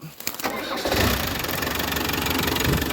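The diesel engine of a Land Rover Discovery 1, left abandoned on a farm for 20 years, cranks with a few uneven bursts, then catches and settles into a loud, clattering, rhythmic knocking idle close by.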